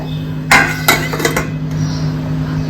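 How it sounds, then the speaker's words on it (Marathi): A metal lid set onto a cooking pot of simmering val beans and colocasia leaves, giving a couple of sharp clinks and a lighter rattle close by, with a steady hum underneath. "हे आता झाकून ठेवूया"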